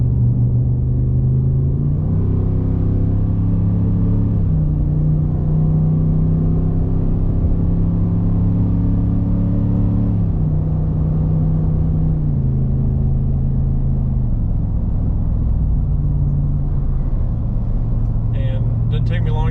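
A Ford F250 with the 7.3 Godzilla V8 and a 4-inch MBRP exhaust drones steadily at highway speed, a deep loud rumble stepping through gear changes, with someone talking over it.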